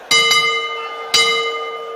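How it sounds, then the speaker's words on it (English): A boxing bell clangs to end the first round of a bout, two bright ringing strikes about a second apart, each sustaining with a long metallic hum and no talk over it. "the bell will go to end the first round"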